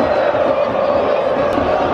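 Celtic supporters at an away match against FK Sarajevo roar and chant as a dense, continuous crowd wash filling the stadium, loud and sustained for the whole moment.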